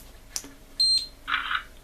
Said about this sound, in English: Click, it's taken a still.